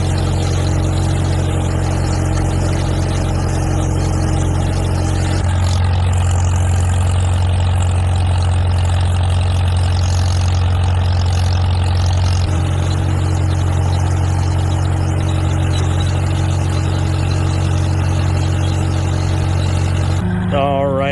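A Farmall tractor engine idles steadily and loudly for the whole stretch, with a deep low rumble whose tone shifts slightly partway through and a brief change at the very end.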